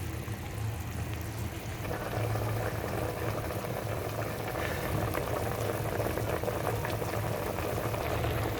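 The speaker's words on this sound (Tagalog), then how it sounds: "Ayan, kumukulo na." Fish soup bubbling at a steady rolling boil in a pot, a continuous dense simmering hiss with low churning bubbles throughout, close and moderately loud, no talking.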